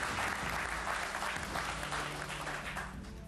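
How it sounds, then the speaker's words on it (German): Studio audience applause on a German TV talk show: dense, steady clapping that stays loud throughout and eases off slightly near the end, with no voices over it. "das ist mal ein kleiner Applaus wert"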